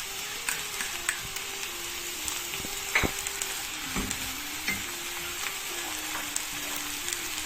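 Garlic and spices fry in a pan with a constant bright sizzle, while a utensil stirs and scrapes in irregular taps and clinks close by.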